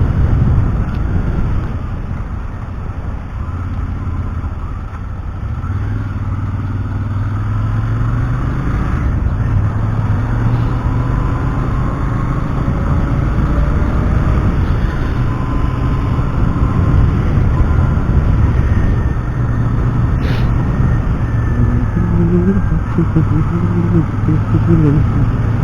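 A Royal Enfield Interceptor 650 motorcycle underway gives a steady low engine drone mixed with heavy wind rush, loud and continuous for the whole stretch. Muffled talking appears to sit beneath it.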